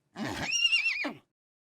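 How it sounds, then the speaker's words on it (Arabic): A horse neighs once, close and loud: a rough, breathy onset rising into a high, wavering whinny that drops away after about a second, followed by silence. "حصان"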